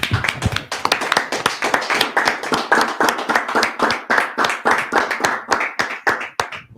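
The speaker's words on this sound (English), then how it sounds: "Let's clap it up." A class of men claps together in a room, loud and close, with sharp rhythmic hand claps repeating quickly and unevenly for several seconds, no talking.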